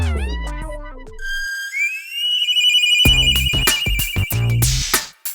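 A telephone ringtone plays loud and close as a bright, whistle-like melodic tone, with bursts of other clattering sound around it during a comedy stage sketch.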